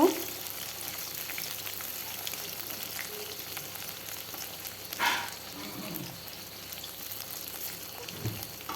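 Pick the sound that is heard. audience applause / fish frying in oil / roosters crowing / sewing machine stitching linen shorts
fish frying in oil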